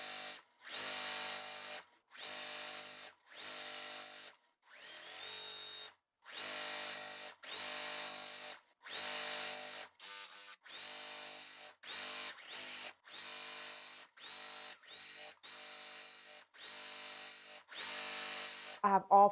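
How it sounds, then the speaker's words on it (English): A sewing machine chain-pieces quilt block pieces, running in repeated bursts of steady stitching separated by short pauses, fairly close and moderately loud, with no talking. "For this one, I will chain piece all of them just to make it a little faster, you just chain piece."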